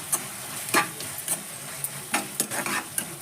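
Tomatoes sauté in a pan for a simple tomato curry, a soft sizzle under repeated stirring scrapes and light clinks of the spoon against the pan, close and steady.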